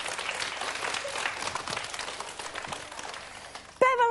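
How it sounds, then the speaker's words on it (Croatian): A studio audience at a children's television music show applauds steadily for about four seconds, a dense, even wash of clapping that ends with a short bright tone. "Aplauz."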